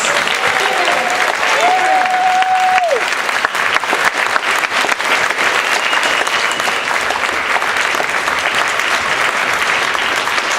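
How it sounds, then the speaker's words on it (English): A concert audience applauds after a Dickens Christmas Carol suite performance, with loud, sustained, dense clapping throughout and a brief whistle-like tone early on. "Big round of applause for them"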